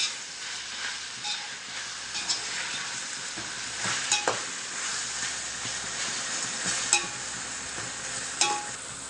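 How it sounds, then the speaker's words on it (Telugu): Vegetable biryani masala frying in a pan with fresh coriander, a continuous sizzle and hiss overlaid by repeated scraping strokes of a ladle against the pan, close and fairly loud. "ఇలాగా పచ్చివాసన పోయేదాకా మనం వేపాలండి."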